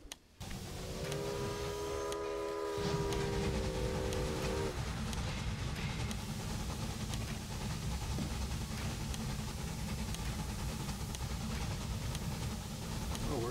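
Train running in the railway strategy game Railway Empire, a loud, continuous rumbling roll with a brief tonal horn-like hum early on, steady throughout with no speech over it.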